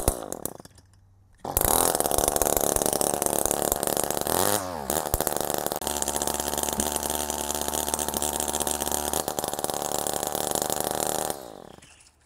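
An Echo small two-stroke engine, losing power and refusing to rev properly, drones steadily at full throttle for about ten seconds after a brief start, loud and close, then cuts back toward the end.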